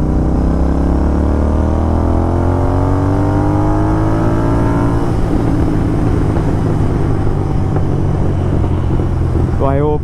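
Royal Enfield Continental GT650 motorcycle with a performance exhaust revs and pulls hard, a loud continuous engine roar climbing in pitch, then crackling pops on the overrun, close-up and dominant throughout.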